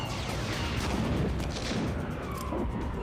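Blaster fire rattles through a Star Wars: The Clone Wars battle, a dense continuous barrage of zaps and booms layered with explosions and swooping effects, loud and unbroken.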